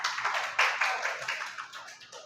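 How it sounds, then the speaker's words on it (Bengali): Students in a classroom give a short burst of rapid applause, a dense patter of hand claps close by that fades out after a couple of seconds. "হাততালি হবে"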